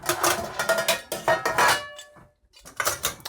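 Metal camping stove pots and a handle clinking and clattering as the cook kit is nested and packed, several bright close-up knocks in quick bunches, a brief pause, then more clanks.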